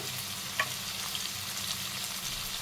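Marinated chicken frying in a pan, a dense even hiss of sizzling oil with a faint pop or two, close and steady throughout, no voices.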